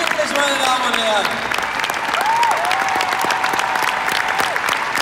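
A concert audience at a Disney in Concert show claps in dense, sustained applause that fills the whole stretch, with a faint voice and a sliding tone over the start.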